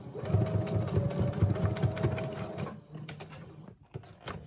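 A sewing machine stitches a traveler's notebook in a fast, even mechanical whir for nearly three seconds, then stops, leaving quiet handling noises.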